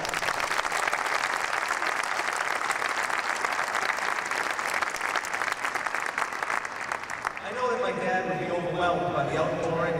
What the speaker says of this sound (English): please let's give everybody a round of applause